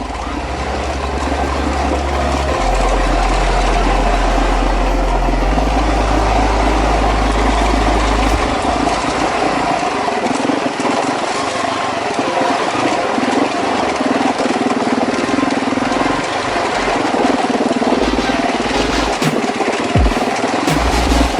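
A Husqvarna TE449 motorcycle engine drones while riding, a loud, continuous low rumble that shifts pitch as the bike changes speed, with wind noise throughout.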